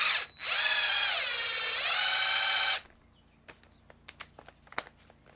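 A cordless impact driver threading a hose fitting whirs steadily and loudly for about two and a half seconds, then stops, leaving a string of faint clicks and taps.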